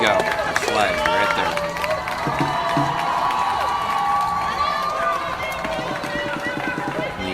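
A crowd cheers outside a jail as a flag is raised over a government building, a dense, steady wash of many voices shouting together with no break for the whole stretch.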